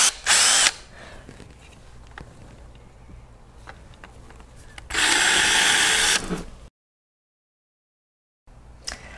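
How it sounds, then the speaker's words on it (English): Power drill boring screw holes into a wall for a thermostat mount, with a short burst, a longer loud whirring run, then silence and another brief burst, all close to the microphone. "Otherwise, use your drill to make new ones."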